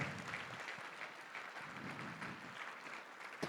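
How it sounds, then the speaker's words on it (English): A crowd claps steadily throughout, a dense even wash of applause heard from within the room, with no one speaking. "Round of applause for that family right there."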